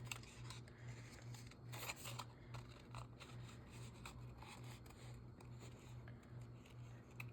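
Scissors trim paper for a junk journal, quiet close snips and crisp paper rustles in an irregular series, with a faint steady hum in the background.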